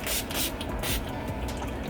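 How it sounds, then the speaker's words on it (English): NYX Professional Makeup Matte Finish setting spray is misted onto a face in several quick, close hissing bursts of the pump, with no one talking. "you just spray it on"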